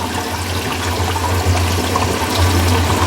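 Aquarium pump circulating water in a fish tank, a steady close rushing and trickling wash that continues without pause, no voices.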